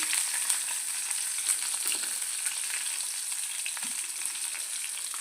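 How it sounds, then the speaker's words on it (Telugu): Green chillies and cumin seeds fry in a pan for a gongura chutney, giving a steady crackling sizzle with scattered pops and an occasional soft stir, close and free of speech. "జీలకర్ర అర టీ స్పూన్ వేసుకొని దోరగా వేయించుకోవాలి"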